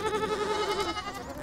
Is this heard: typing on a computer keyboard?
no